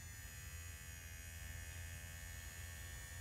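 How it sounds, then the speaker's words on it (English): A small electric motor on an RV automatic entry step runs steadily at close range, a constant low buzzing whine with an even hum and no speech. "Okay, so the motor's turning."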